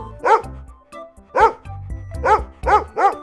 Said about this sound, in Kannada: ಈ ನಾಯಿ ನನ್ನ ಹಾಲಿನ ಕ್ಯಾನ್ ನೋಡಿ ಕೂಗ್ತಿದೆ